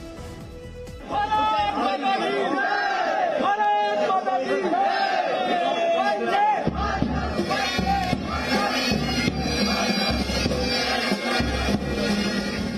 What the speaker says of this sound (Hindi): लोगों की भारी भीड़ दिखाई दी।